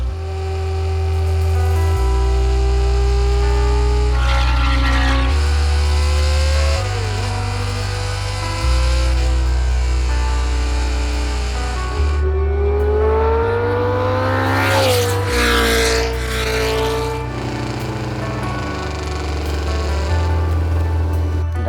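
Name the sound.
Brabham race car engine while driving on track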